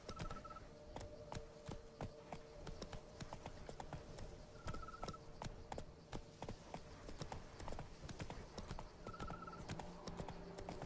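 Hooves of Roach, a horse in the Witcher 3 video game, clip-clop in a quick steady trot, each strike crisp and fairly close, with occasional soft snorts and no talking.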